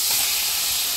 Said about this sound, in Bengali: ও তেলের মাঝে আমি লবঙ্গ মরিচ এলাচি দালচিনি তেজপাতা